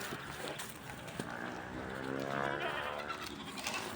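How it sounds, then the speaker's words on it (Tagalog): A cow moos on a farm in a single drawn-out, fairly close call, with goats nearby and faint background noise around it. "May isa pang baka."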